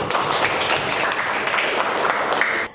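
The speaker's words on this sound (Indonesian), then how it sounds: "Masih tepuk tangan untuk Esti." Classroom applause for a student named Esti during a coaching practice lesson, a steady burst of clapping from a group of pupils lasting a few seconds before cutting off.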